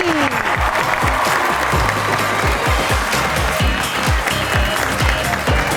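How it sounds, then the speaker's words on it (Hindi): A studio audience claps steadily and loudly as guests are welcomed onto a talk-show stage, with dense applause filling the whole stretch and a few louder thumps mixed in. "आप सबकी तालियों में तशरीफ लाती हैं"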